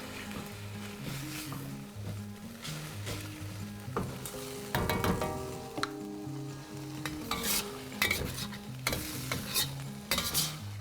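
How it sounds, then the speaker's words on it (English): Black beans being mashed into pork frying in a pan for ma po tofu, with a steady loud sizzle under repeated scraping and pressing strokes of a spoon or ladle, close up and without talk. "And you want to mush these black beans in with the pork."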